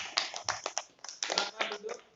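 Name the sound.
classroom applause for group 1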